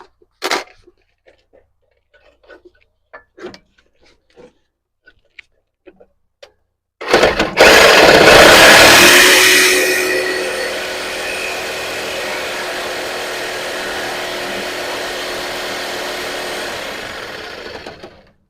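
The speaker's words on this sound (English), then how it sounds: "You have to saw the bolt off like this" A metal bolt being sawn off on a Land Rover Defender during a lift kit install: after a few quiet clicks, loud, continuous rasping cuts in and carries on steadily to the end, close and alone with no talk.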